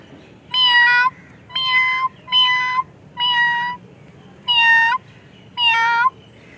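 A woman imitates a cat's meow, producing six drawn-out, tonal meows in a steady rhythm with short pauses between them, close and clear over a quiet background.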